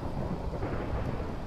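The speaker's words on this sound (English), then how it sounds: "I don't know why there's so much lightning on the Hunger Games here." Lightning thunder in a Minecraft Hunger Games match, a dense low rumble with rain hiss that fills the short stretch evenly at moderate loudness with no voices.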